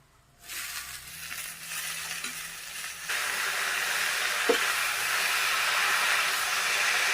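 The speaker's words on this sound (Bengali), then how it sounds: "আলু বেগুন ভাজা হয়ে গেছে, আমি এখন শাকটা দিয়ে দিচ্ছি।" Spinach hits a hot pan with fried potato and eggplant, a faint hiss swelling into a loud, steady sizzle that continues close and unbroken, with one small clatter partway through.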